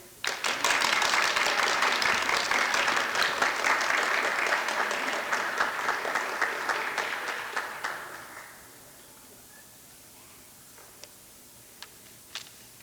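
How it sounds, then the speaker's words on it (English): An audience at a CASA creative writing mid-year event breaks into steady applause, a dense wash of clapping that holds for several seconds then fades out, leaving a few scattered last claps. "Francis literally just started clapping tonight"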